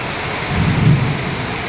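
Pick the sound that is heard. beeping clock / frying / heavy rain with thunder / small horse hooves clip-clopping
heavy rain with thunder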